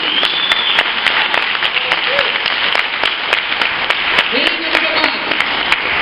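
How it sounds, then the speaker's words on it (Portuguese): A church congregation claps in sustained applause during a worship service, dense and steady throughout with a few voices calling out faintly beneath it. "Você pode aplaudir Jesus por causa disso?"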